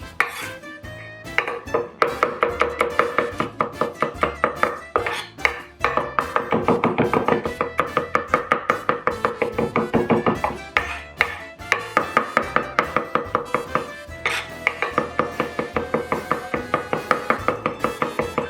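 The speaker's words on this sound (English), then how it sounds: "I'm just going to chop that up pretty fine, give it a smash." A knife chopping garlic on a cutting board, sharp rapid taps in steady runs with brief pauses, close and clear, no talking.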